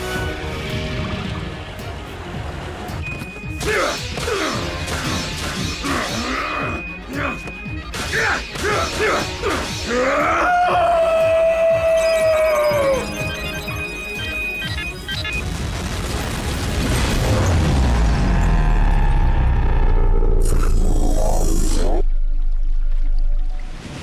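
A stasis bomb explodes in a Transformers cartoon: a loud, sustained crashing roar swells and rumbles for several seconds, with a deep low boom underneath, following shouted voices and whooshing effects.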